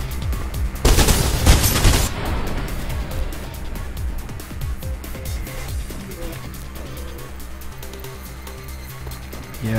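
Machine gun fire from an enemy gunner in the parkour game Mirror's Edge, with a sharp loud burst near the start followed by lingering rattling shots and game noise that trail off through the rest of the stretch.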